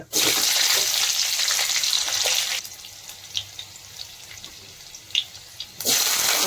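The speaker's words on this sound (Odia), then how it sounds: "ତେଲ ତ ଗରମ ହେଇଗଲାଣି, 2ଟା ଫୁଟଣ ଦେଇଦେବି।" Tempering spices sizzling in hot oil in a kadai, a loud burst of crackling sizzle that drops to a quieter hiss with a few pops, then flares up loudly again at the end.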